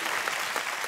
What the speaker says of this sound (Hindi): जोरदार तालियां बाजी, आइए बैठिए।